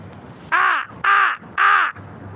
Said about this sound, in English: Hey, there's my crow buddies coming flying back.